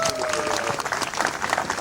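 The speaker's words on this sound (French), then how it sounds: "Ok, applaudissez pour eux." A crowd claps for a couple at a civil wedding ceremony, producing brisk, fairly dense applause heard up close, with a faint tone and some murmuring in the background.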